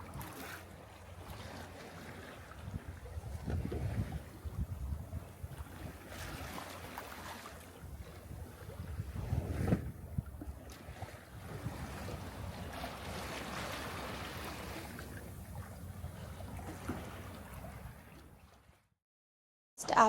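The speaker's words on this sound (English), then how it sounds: "Just sailing past all the super yachts in Saint Bart's." Sailboat gliding at night past moored super yachts off Saint Barthélemy, with a steady wash of water along the hull and wind buffeting the microphone, continuous and fairly close, then cutting out near the end.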